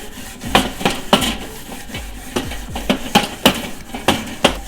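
Rhythmic scraping of a brush across barbecue grill grates, cleaning off leftover residue from a previous cook; repeated rasping strokes about twice per second, close and fairly loud, with no talking.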